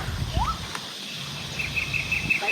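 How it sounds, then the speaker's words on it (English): Forest birds in Cha-am, Thailand call sparsely: a rising chirp, then a thin, sustained high whistle, fairly faint over soft rustling and a quiet background hum. "Right now you can hear birds."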